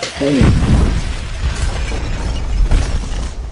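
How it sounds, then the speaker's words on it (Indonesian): In the film Rust Creek, heated materials blow up in a loud, booming blast with a long rumbling tail, while a narrating voice speaks over it. "ketika bahan-bahan tadi dimasukkan dalam suhu yang panas seketika menjadi meledak"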